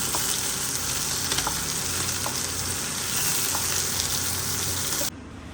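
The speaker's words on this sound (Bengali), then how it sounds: "বাটা মাছটা একটু মুচমুচি করে ভাজবো" Bata fish frying until crisp in a nonstick pan, a close, even sizzle with a few faint clicks, cutting off abruptly near the end.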